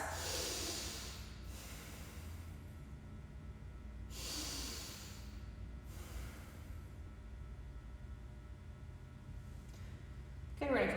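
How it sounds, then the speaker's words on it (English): Two long, forceful breaths drawn in through the nose during a stretching movement routine, each a close airy rush lasting about a second, separated by quieter stretches with faint background hiss. "2 nose breaths"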